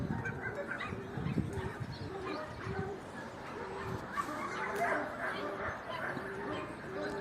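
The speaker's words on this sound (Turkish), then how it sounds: "köpek getirdiler herhalde." Dog barks and yips come and go outdoors, mixed with birdsong and a murmur of voices, fairly distant and not very loud.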